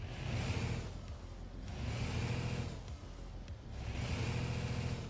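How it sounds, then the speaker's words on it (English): A truck engine revs up repeatedly in a live truck-driving game session, three swelling surges of low engine roar with brief dips between, steady and fairly loud with no talking. "let's rev the truck out here and see what it sounds like"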